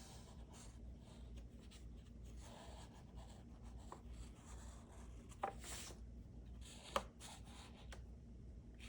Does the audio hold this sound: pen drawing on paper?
yes